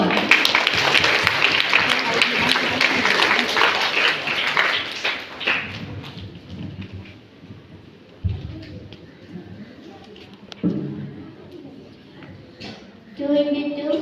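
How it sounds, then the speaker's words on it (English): An inauguration audience gives a round of applause, dense clapping for the first five seconds before it thins out. Scattered taps and rustling noises follow, and faint sounds come at the end. "give a great round of applause for her."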